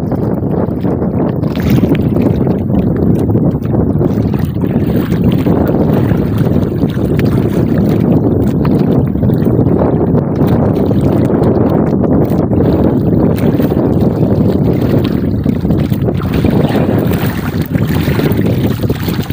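A bangka boat pushes through water with constant sloshing and heavy wind buffeting the microphone, loud and close throughout.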